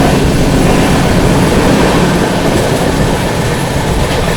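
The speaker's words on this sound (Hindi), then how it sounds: "स्किपिंग मिर्ज़ापुर और क्रॉसिंग हो रही है अपनी मगध एक्सप्रेस के साथ इस्लामपुर नई दिल्ली" The Magadh Express crosses at Mirzapur railway station, filling the air with a loud, continuous close-range rumble and rush of rolling wagons that holds steady throughout.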